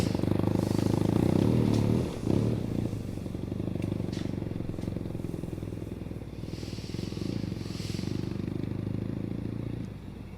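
A BMW R nineT Urban GS motorcycle rides out onto a river sand barge, its engine a steady, fairly loud drone throughout with a brief dip partway, close to the microphone and with no talking.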